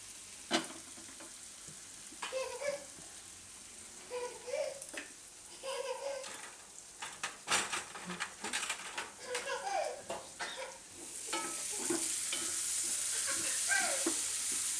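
Vegetables for cheesy rice sizzle and fry in a pan, a crackling, spattering sound throughout with scattered stirring clatter, and a stronger steady hiss toward the end; faint voices occasionally mix in.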